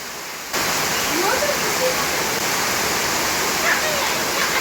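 Steady, dense hiss of heavy rain filling the scene after a brief quieter start, with faint voices and a distant dog bark under it.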